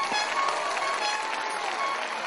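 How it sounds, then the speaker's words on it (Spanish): A crowd at a public event in Callao, Peru, applauds for the regional government president, a steady wash of clapping that fills the moment without any voices over it. "El aplauso fuerte para el señor presidente del gobierno regional del Callao, doctor Félix Moreno Caballero."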